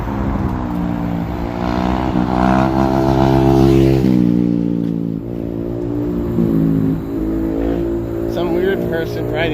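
A vehicle ridden with its front wheel lifted passes close by, its engine loud and revving, rising and falling in pitch as it goes past and fades.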